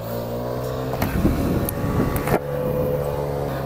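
A motorcycle engine pulls away and accelerates, giving a steady, fairly loud drone with a brief surge in the middle, and no voices are heard.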